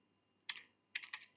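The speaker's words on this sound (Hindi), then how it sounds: "इसके अंदर आप टाइप कर सकते हैं" Keys tapped on a computer keyboard: one short burst followed by a quick run of three and a final tap, close, crisp and quiet, with no talking.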